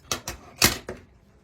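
Scissors snipping through fabric while crafting a primitive candy cane, four quick close clicks of the blades in under a second, fairly quiet.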